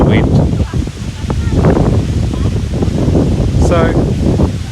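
Wind gusting steadily across an island holiday resort, a loud continuous rush buffeting the microphone, with a voice talking briefly under it.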